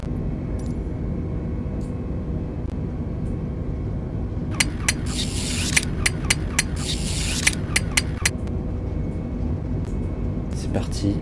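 Airliner jet engines spool up to full takeoff thrust as the plane speeds down the runway: a steady loud roar and rumble, broken by a run of sharp clicks and knocks, with a person talking over it.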